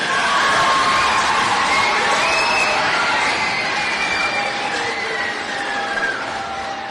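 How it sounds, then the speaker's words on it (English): An audience at a 5th grade moving-up ceremony applauds and cheers in a steady wash of clapping and voices that stays loud and gradually eases off toward the end. "Could we have another round of applause for all of our 5th graders?"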